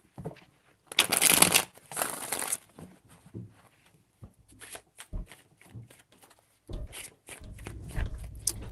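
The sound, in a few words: tarot cards being shuffled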